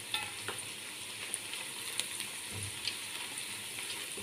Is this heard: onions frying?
yes